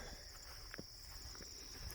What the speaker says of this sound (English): I hear the crickets all around me. Thousands of crickets.